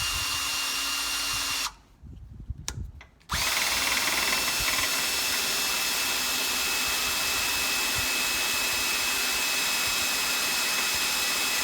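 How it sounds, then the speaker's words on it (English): A power drill whines steadily while boring holes for trailer tail lights, loud and continuous apart from a brief pause near the start before resuming at full speed. "I've got my bit installed in the drill. Go ahead and get these drilled out."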